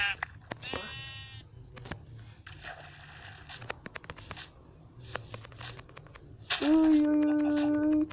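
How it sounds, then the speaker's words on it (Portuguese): Sheep bleating in a Minecraft-style survival video game, several short bleats spread over the clip, the last one loud and close, with game footsteps and rustling around them. "Olha, uma ovelha ali."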